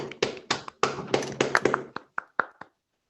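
A small scatter of applause from a few people over open microphones at an online French conference, a dozen sharp, uneven claps that thin out and stop after under three seconds.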